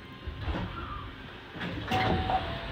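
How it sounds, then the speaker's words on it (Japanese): Doors on a Hankyu Kyoto Line train slide open in a clear mechanical rush heard inside the car, with steady train hum underneath and no speech. "右側の扉が開きます。"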